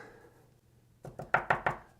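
Four sharp raps of an arrow shaft knocked against a hard surface to shake out leftover residue, coming in a quick, close, evenly spaced burst after a short quiet lead-in.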